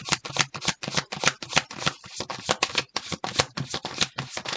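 Tarot cards are riffled and shuffled nearby in quick, crisp bursts, one after another in a steady rhythm with no talking.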